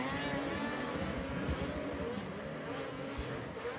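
Race cars work their way around a track and up a hill, giving a continuous, fairly loud engine drone with faint revving.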